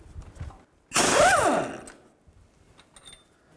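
A wrench or ratchet works the crank bolt on a GMC Yukon harmonic balancer, producing one loud, close mechanical burst of roughly half a second, with quiet around it.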